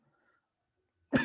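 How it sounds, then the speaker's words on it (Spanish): A single short, sharp cough bursts out at the very end after near silence, close and fairly loud. "Creo que simplemente es que tengo tos."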